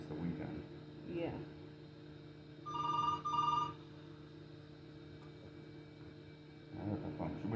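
Telephone in a hospital room ringing once in a short electronic burst, over a steady room hum, with faint speech before and after.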